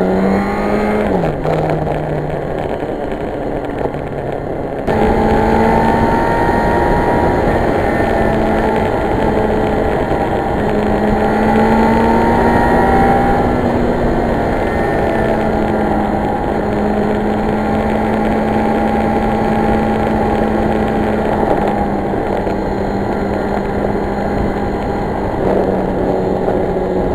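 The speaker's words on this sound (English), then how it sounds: "Let's see, this thing runs. This is a pretty fast bike." A 1986 Bimota Tesi motorcycle with a Suzuki-based engine runs loud and close, its steady harmonic drone rising and shifting in pitch with throttle changes across the whole span, with no voices.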